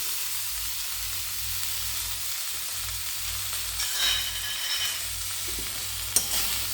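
Coriander and cumin sizzle in a hot pan while being stirred for a Bengali neem shukto, a steady close frying hiss with a brief sharper scrape near the end and no talking.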